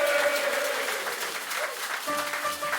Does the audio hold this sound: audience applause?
yes